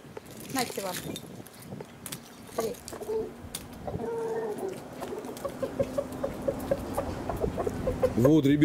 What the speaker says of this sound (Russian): А петух подзывает их.